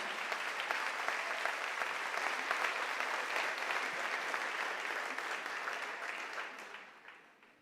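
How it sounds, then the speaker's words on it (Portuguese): A church congregation during a sermon on 1 Kings claps vigorously, a thick continuous burst of applause that holds steady for several seconds before fading out at the end. "Se é para o Senhor, aplaude com vontade."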